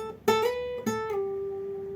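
An electric or acoustic guitar plays a short, simple melody with slide technique: two plucked notes, then a gliding pitch bend into a sustained note that rings out alone, close and clear.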